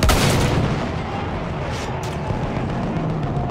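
Dense, continuous machine gun and artillery fire from the World War I shooter Battlefield 1, a loud unbroken wall of booms and rapid shots with no pause.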